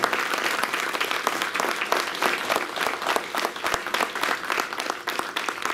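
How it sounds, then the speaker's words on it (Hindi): Audience applauds warmly at a constitution awards ceremony honouring Jile Singh, leader of the response to a terrorist attack; dense clapping continues steadily throughout with scattered sharper claps. "वो परम आदरणीय जिले सिंह साहब के लिए जोरदार तालियां"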